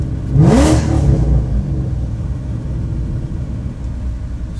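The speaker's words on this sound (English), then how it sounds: "what a sound. That V8?" A Ford GT's V8 engine roars in a sharp rising rev close by, peaking quickly and then settling into a loud, rumbling idle-like drone with no voices over it.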